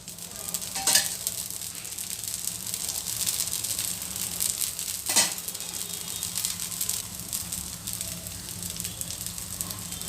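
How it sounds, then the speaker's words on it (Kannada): Oil sizzles steadily on a dosa in a hot pan, a constant close frying hiss with two brief louder crackles near the start and middle. "ಸ್ವಲ್ಪ ಎಣ್ಣೆ ಹಾಕಬೇಕು"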